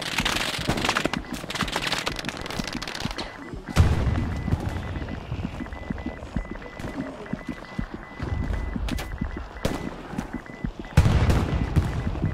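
Gunfire in the World War II shooter game Hell Let Loose, with sharp rifle and machine-gun bursts cracking near and far in irregular volleys, loud single shots punching through the rattle.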